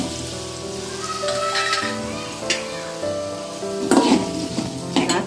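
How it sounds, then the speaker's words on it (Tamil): Pieces of elephant foot yam fry in a generous amount of oil, giving a continuous close sizzle with occasional louder crackles and stirring clatters near the end. "கொஞ்சம் எண்ணெய் அதிகமாக ஊற்றி நல்லா சிம்மில் வச்சு வதக்கி எடுத்துக்குவோம்"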